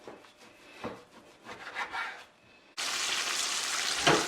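Homemade applewood smoked jerk bacon being sliced: a series of uneven rasping knife strokes, followed by a steady, louder scraping hiss close by.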